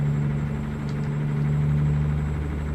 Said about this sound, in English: I love this new engine sound mod